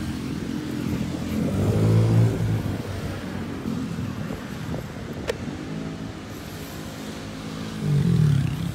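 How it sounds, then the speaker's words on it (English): Road traffic on Friendship Highway in Angeles City, Philippines: steady car engine noise from passing vehicles, with louder nearby cars swelling past around the second and eighth seconds, heard from inside a moving vehicle. "A lot of traffic today, my God."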